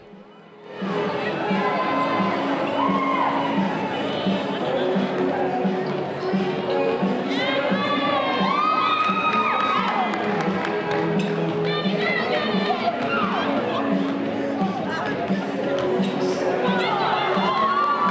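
Ponderosa high school cheer team performing while a crowd cheers and chatters, a steady loud wash of voices with shouts and rhythmic tapping throughout.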